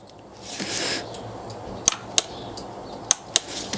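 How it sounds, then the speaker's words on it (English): A plastic oil filter housing cap on a diesel car gets torqued down, giving off four sharp, isolated clicks spaced a second or so apart after a brief rustle, close and quiet. "the cap can be torqued down to 25 Newton meters"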